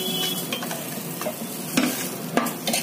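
Thin batter for chicken spring roll wrappers poured into a hot pan on high flame, sizzling steadily with a couple of louder hissing bursts as it spreads, no voices.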